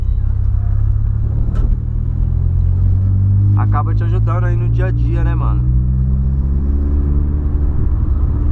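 A 2008 Volkswagen Polo with an aftermarket exhaust idles and rumbles with a deep, steady drone throughout, loud and close, while someone talks over it.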